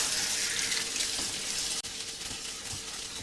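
Apples being rinsed under a running kitchen tap: a steady, close hiss of flowing water splashing into the sink, with a brief break in the stream partway through.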